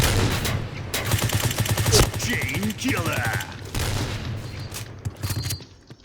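A light machine gun fires in the shooter game Point Blank, rapid bursts of close, loud shots rattling in quick succession with in-game effects, while players talk over the gunfire.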